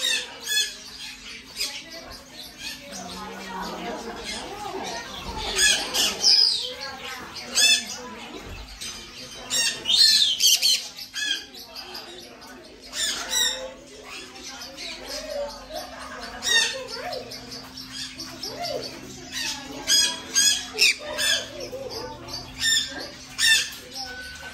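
A pet bird, a cinnamon female, squawks repeatedly during a family backyard barbecue, sharp shrill calls coming in bursts amid chirps and rustling, with people talking nearby.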